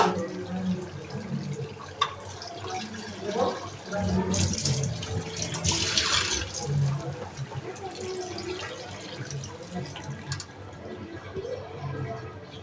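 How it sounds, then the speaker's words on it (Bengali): Water is poured into a pot of broiler chicken curry to boil the meat, a soft splashing pour swelling in the middle, with faint kitchen clatter and brief speech around it. "এখন এর মধ্যে পানি অ্যাড করে দিব মাংসটা সিদ্ধ হওয়ার জন্য"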